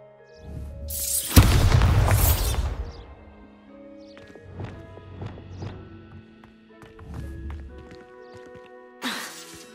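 A Bombarda blasting spell explodes in Hogwarts Legacy, a loud booming burst with a heavy low thud and crackling debris, followed by softer scattered thumps and footsteps, then a short sharp blast near the end.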